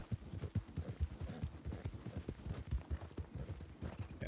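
Rapid, rhythmic clip-clop of horse hooves trotting in the video game Red Dead Redemption 2, close and steady throughout with no talking.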